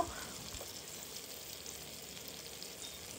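Red apple slices fry in a little butter in a pan, turning golden on both sides, with a soft, continuous sizzle and faint crackle that holds steady throughout, quiet and unaccompanied by talk.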